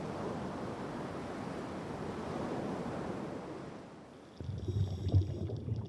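Sea waves off Ulleungdo wash in a steady, broad surf roar for about four seconds, then cut to a quieter, muffled, rumbling water sound.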